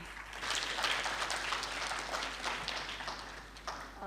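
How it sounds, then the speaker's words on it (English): Steady applause from an audience at a magazine and book launch, many hands clapping together in a dense, continuous wash that holds at an even level throughout. "huge round of applause"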